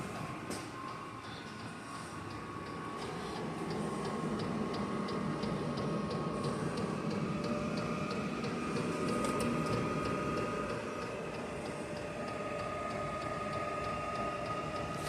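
A diesel heater starts up inside a garage with a steady mechanical hum and fast, regular ticking. The sound gradually swells in intensity and holds steady, with no voices over it.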